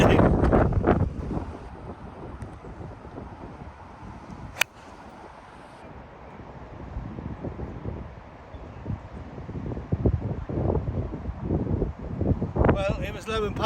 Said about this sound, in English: straight into this 20 to 30 mile an hour wind